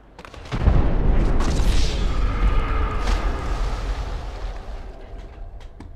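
A firecracker bomb bursts underfoot with a single deep, booming blast, followed by a long rumbling decay that slowly fades over several seconds.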